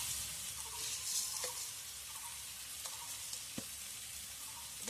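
A pan of food is stirred steadily over gentle sizzling as its water cooks off, with soft scraping strokes and a few sharper clinks of the spoon against the pan; no talking.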